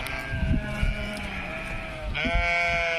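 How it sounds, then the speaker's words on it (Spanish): Curious sheep, one of them black, bleat loudly in a field, two long wavering calls close by with a short gap between them. "Aquí vienen más ovejas curiosas."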